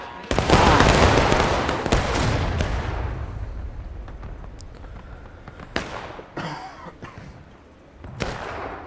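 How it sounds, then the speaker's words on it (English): A musket volley fired by a line of soldiers in the Civil War game War of Rights erupts as a loud crackling roar that slowly fades, followed by scattered single shots farther off. "Going up for another volley."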